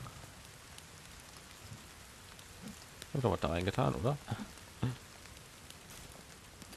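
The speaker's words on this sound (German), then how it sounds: "Ja, das heißt, es regnet." Rain falls in the survival video game The Forest, a faint, even hiss of drops persisting in the background while someone talks briefly over it.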